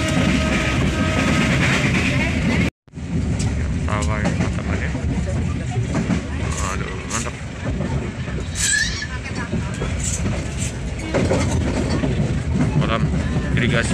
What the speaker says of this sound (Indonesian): semakin kencang ya teman-teman ya kereta api kita